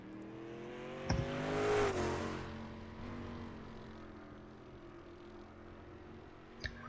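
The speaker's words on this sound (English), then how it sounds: "looks like we do have a car rolling onto the speedway" A sprint car from the JSRL Spike Chassis Sprint Car Series rolls onto the speedway, its engine rising in a brief swell before settling into a steady, moderately distant drone, with a couple of sharp clunks, no talk.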